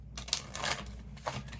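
Cards being pulled from a Your Breakthrough is Coming oracle deck, giving a series of soft papery slides and flicks with a couple of sharper snaps, close and quiet with no talking.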